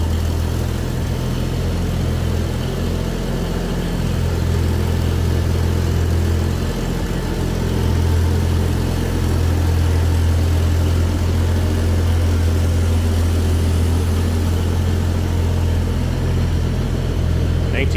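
A 1979 Ford F-150 4x4 idles smoothly and steadily close by, a loud, even low rumble that holds for the whole stretch without revving.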